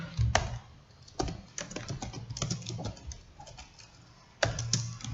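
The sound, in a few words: typing JavaScript code on a computer keyboard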